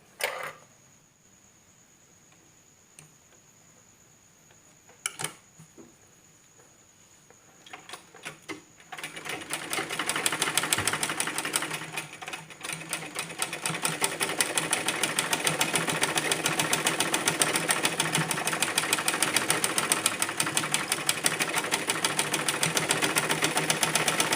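A sewing machine stitches fabric edges with a lock stitch. After a quiet stretch with a few isolated clicks, it starts up and runs in a fast, continuous rhythmic chatter at close range until the end.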